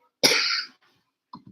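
A man with a back injury gives one hard, close cough lasting about half a second, then goes quiet before a couple of faint, short sounds at the end.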